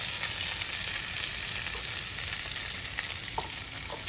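A steelhead trout fillet fries in a pan just after being flipped, giving a loud, continuous sizzle and crackle of hot oil with a few small pops.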